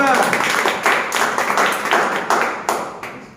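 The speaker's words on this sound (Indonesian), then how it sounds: "Tepuk tangan dulu." Audience clapping hands at a talk, a run of sharp, fairly close claps in an uneven rhythm that slowly thins out, with a voice heard at the start.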